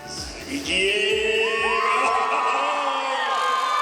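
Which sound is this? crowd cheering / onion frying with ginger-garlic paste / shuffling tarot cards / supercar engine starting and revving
crowd cheering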